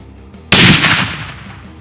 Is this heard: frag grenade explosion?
yes